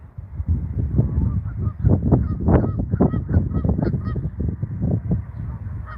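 Geese honk loudly and repeatedly at close range in a parking lot during nesting season, a flurry of harsh overlapping calls with no talking.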